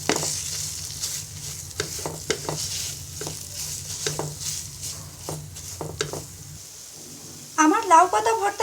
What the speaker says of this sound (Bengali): এবার সবকিছু একসাথে ভালো করে ভেজে নিব।